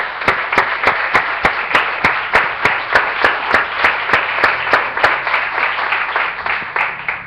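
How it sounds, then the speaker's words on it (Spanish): A church congregation claps together in a steady, even rhythm, with sharp beats at a brisk, regular pace that stays loud and full from start to finish. "Démosle un aplauso al Señor, hermano."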